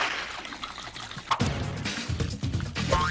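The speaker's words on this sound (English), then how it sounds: "And then you start shaking it." Whipping cream sloshes and splashes inside a jar as it is shaken, uneven bursts of churning close by.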